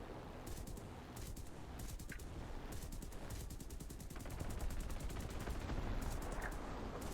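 Aircraft machine-gun fire in the War Thunder air-combat game, a dense continuous rattle of rapid bursts over a loud engine drone, sustained throughout with no speech.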